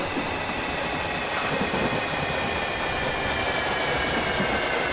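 A 2009 Stock Victoria Line train in the OpenBVE game braking as it runs into a station, with a steady broadband rail rumble and a faint high squeal from the wheels, loud and continuous throughout.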